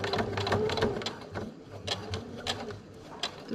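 A sewing machine runs nearby, stitching the last side of a boat curtain hem with a rapid, mechanical needle chatter that slows and restarts in short runs, with no voices.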